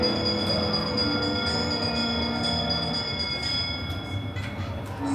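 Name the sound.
bell ringing on the Haunted Mansion ride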